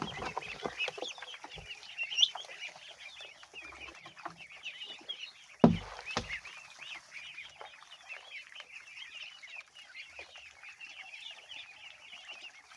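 A flock of chickens clucks steadily and softly while eating, with scattered pecking and a sharp knock near the middle. Farm fowl are fed azolla.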